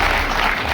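An audience claps loudly to welcome a managing director onto the stage, a dense, steady burst of applause filling the whole brief moment.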